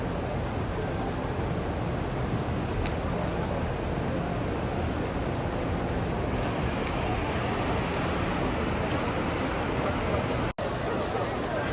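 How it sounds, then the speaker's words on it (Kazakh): Water sprayed to cool the air for a crowd in hot weather near Mecca gives a steady, dense hiss that runs the whole time, mixed with a murmur of many people. "осылай су шашып жатыр."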